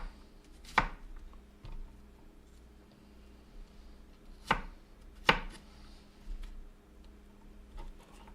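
Onions chopped on a board with a knife: three sharp, isolated chops spaced a few seconds apart, close and crisp over a faint steady background hum.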